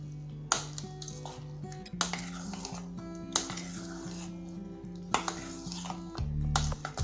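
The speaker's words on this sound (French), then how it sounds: "Donc on va rajouter nos poires coupées dans notre mélange. Donc il faut bien mélanger." Chopped pears are stirred into cake batter in a bowl, with repeated close clinks and scrapes of the utensil against the bowl and soft wet squishing, over a faint steady background hum.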